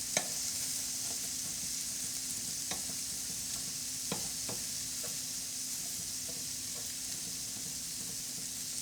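Barbecue sauce sizzling steadily on a grill while chicken is prepared for quesadillas, a continuous close frying hiss with a few soft ticks and pops throughout and no talking.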